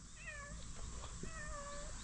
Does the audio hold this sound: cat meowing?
yes